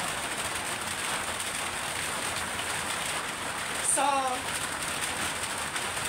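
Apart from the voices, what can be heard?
heavy rain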